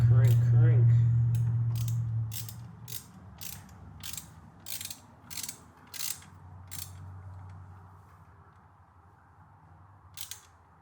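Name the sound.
cranking a wrench on a Corvette angle kit bolt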